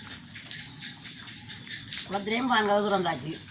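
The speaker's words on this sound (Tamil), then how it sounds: "அதான் காலமேல இருந்து இன்னும் மழை விட இல்லை மழை விட" Steady, heavy rain pours down in a village during a Thaipusam harvest festival, a continuous close hiss throughout, with a voice speaking over it toward the end.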